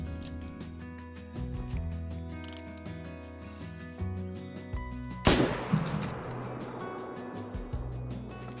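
A hunting rifle fires once in the video game Call of the Wild. It is a single loud, close shot with a long, rolling echo that dies away behind quiet ambient sound.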